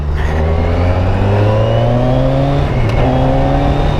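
Motorcycle ridden at about 80 km/h with the helmet visor open: steady loud wind roar over a rising engine drone, the pitch climbing as it accelerates, no talk.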